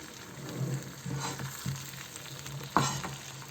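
Olive pickle with spices is stirred in a pan over a soft sizzle, with a few distinct scraping strokes and a sharp clink, fairly quiet and close, with no talking.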